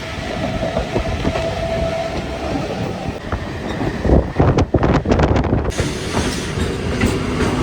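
A train rolls past close by, a loud continuous rumble with clattering wheel beats and buffeting wind noise against the microphone.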